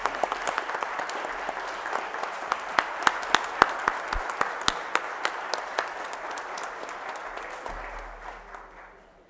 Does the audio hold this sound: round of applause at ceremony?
yes